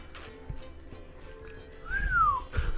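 A person whistles an imitation of a bird call, one short rising-and-falling whistled phrase near the end, over faint background room noise and low rumble.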